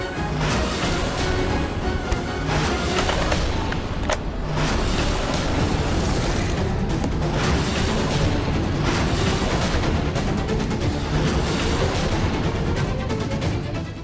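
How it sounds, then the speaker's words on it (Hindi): Gunfire bursting out in a TV serial scene, a dense, loud stretch of booming shots and blasts that fills the whole passage with little letup and no talk. "ये अचानक गोलियों की आवाज कैसे आ गई?"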